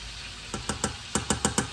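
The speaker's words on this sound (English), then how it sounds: "we're just gonna mix all of this together" Beans and rice mixture being stirred in a pan on the stove, a quick series of soft rhythmic scraping strokes, about eight in under two seconds, close and fairly quiet with no talking.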